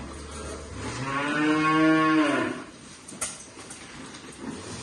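A cow on a dairy farm gives one long, deep moo, near and fairly loud, swelling and then fading out, followed by quiet barn background noise and a brief clatter.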